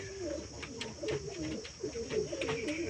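Pet pigeons coo in soft, repeated warbling calls close by, fairly quiet against a light background hiss.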